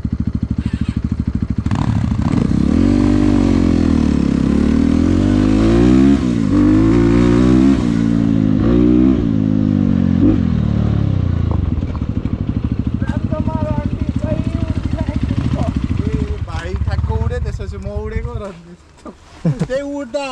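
A new Crossfire RMZ250 motorcycle revs hard during a test ride, its engine rising and falling in pitch through repeated throttle blips, loud and close, then dropping to a rougher idle while people talk over it.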